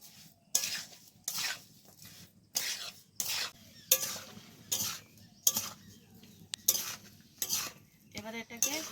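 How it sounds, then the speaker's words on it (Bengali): Spices such as cumin, coriander, chili and black pepper powder stirred into a pot of lemon pickle, rhythmic scraping strokes of a spoon against the pan repeating about every half second, close and crisp, with a faint sizzle underneath. "এ দেখো এবার এই সব কিছুকে খুব ভালোভাবে মেশাবো"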